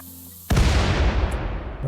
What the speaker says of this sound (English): Okay, large explosion.